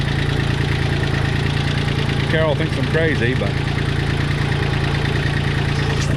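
A small 234 tractor engine with a little three-speed transmission runs at a steady idle, a loud, close, even rumble throughout while someone talks briefly over it.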